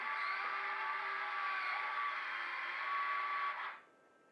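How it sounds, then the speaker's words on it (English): An Avios Albatross model plane's retractable landing gear cycles with a steady electric servo whine, close and even for a few seconds before it stops abruptly, leaving near silence. "As I cycle the gear through"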